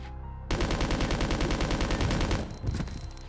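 A submachine gun in Resident Evil Code Veronica on Dreamcast is fired at zombies: a rapid, even stream of loud shots for about two seconds after a short quiet start, then a few scattered trailing bursts.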